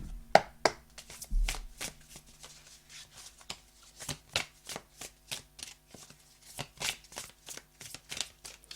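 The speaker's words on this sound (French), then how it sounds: "je vais vous prendre une petite carte avec The Light Years" Oracle cards from The Light Years deck being shuffled by hand, a close series of regular soft riffling slaps and taps, with a few sharper knocks at the start.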